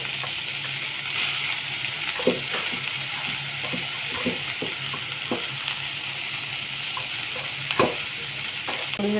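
Amaranth greens dropped into hot oil after mustard seeds have popped, giving a steady sizzling fry with occasional stirring scrapes and small pops, close and continuous with no talking.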